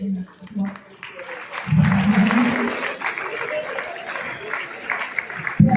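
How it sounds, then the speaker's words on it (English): Applause from an audience at a young professionals program graduation and anniversary ceremony, with broad clapping rising around two seconds in and holding steady to the end, mixed with crowd noise. "Let's give him a applause."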